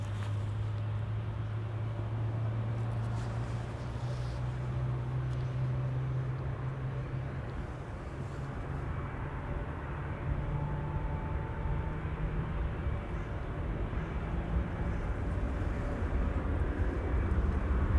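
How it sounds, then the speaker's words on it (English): An ITA Airways Airbus A321neo departing on runway 18 Left at Schiphol, heard as a steady, distant broadband jet roar with a low engine hum, holding even and slowly building over the whole stretch, without any voices. "ITA Airways flight 107 to Rome, A321neo lining up on runway 18 left"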